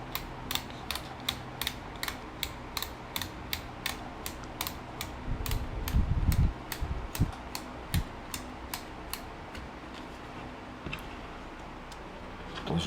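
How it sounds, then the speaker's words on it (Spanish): A Makita electric screwdriver drives a screw in with a rapid, steady train of mechanical clicks, rising into a brief heavier grinding burst midway, then continuing to tick evenly until the end. "vamos a enterrar el tornillo."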